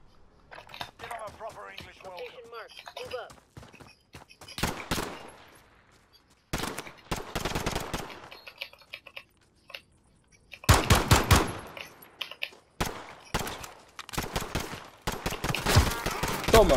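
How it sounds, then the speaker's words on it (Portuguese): Gunfire in a Call of Duty: Modern Warfare gunfight match, with scattered single shots and rapid automatic bursts, some very loud and close, between quieter stretches where people talk. "Gunfire"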